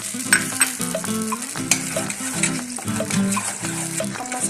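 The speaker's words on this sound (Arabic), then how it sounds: "نحمصها مليح فيها." Flour toasts in a hot pan while a spoon stirs it, soft sizzling under repeated scraping strokes with an uneven rhythm, close and fairly loud, no voices.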